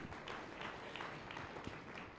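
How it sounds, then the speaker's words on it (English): Faint, steady applause rolls from a summit audience, a dense wash of clapping heard from a distance with no voices standing out. "let's give him another big round of applause"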